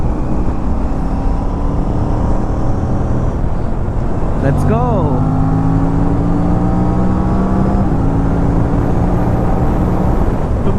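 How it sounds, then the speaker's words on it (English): An Aprilia RS 457 motorcycle fitted with a GPR exhaust, dB killer installed, rides at night with a loud continuous drone and a rising rev partway through, while a voice speaks briefly over it. "You will love the RS 457 exhaust without the DB killer."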